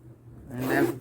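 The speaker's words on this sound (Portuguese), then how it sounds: "Agora eu vou testar se esse zíper tá fechando, se não ficou preso em algum lugar." A zipper on a small handmade fabric handbag is pulled along once, a short close rasping slide that swells and fades within a second, heard alone with no talk.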